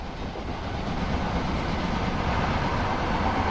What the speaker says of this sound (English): We have another 321. Actually, a 745, so the bunny train.